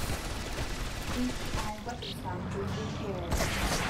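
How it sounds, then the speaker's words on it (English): Artillery strike explosions from the video game Renegade X rumble and boom in a dense, continuous barrage beneath a talking voice. "They keep dropping in the artillery strike."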